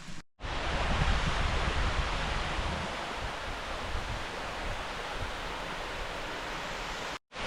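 Mountain waterfall near Lac de la Muzelle, heard as a steady, broad roar of falling water close by, continuous with no voices.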